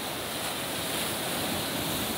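Ocean waves break and wash continuously at Maresias beach in the late afternoon, a steady, dense roar of surf with no voices.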